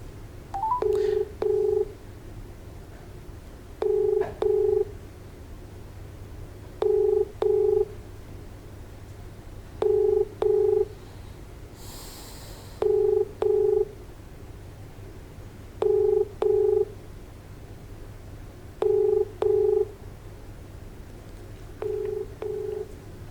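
An unanswered phone call keeps ringing: a faint, evenly spaced ringback tone repeats about every three seconds, eight times in a row, with no voice picking up.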